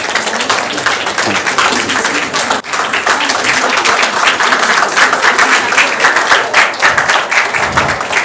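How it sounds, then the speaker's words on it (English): Loud, sustained audience applause fills a women's summit hall, dense clapping from a large crowd continuing steadily throughout with a brief dip early on. "please, a huge round of applause"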